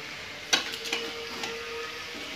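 Bengali bhoger labra, a mixed vegetable dish, being stirred in a sizzling pan, with a sharp utensil scrape against the metal followed by softer stirring knocks over a steady fry.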